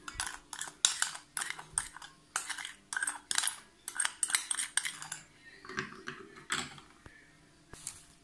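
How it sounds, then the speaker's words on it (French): Lukewarm milk and yeast are mixed for donut dough with a utensil clinking against a bowl in quick, repeated taps and scrapes, close and fairly quiet, with brief pauses between bursts. "Je mélange la levure dans le lait"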